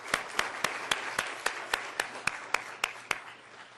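A lone, slow series of sharp claps, roughly a dozen evenly spaced, sounds over a quiet room with a low steady hum at a competition final round, thinning out toward the end.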